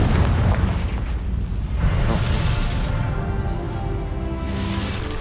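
A Confringo spell in Hogwarts Legacy goes off as a heavy, booming blast with a rumbling low-end tail, followed by further crackling bursts and debris in a loud, dense game soundscape.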